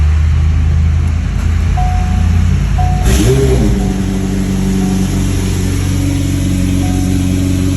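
A 1500 hp Ferrari V12 engine idles steadily, then revs up sharply around the midpoint and settles into a louder, throaty exhaust drone, close by.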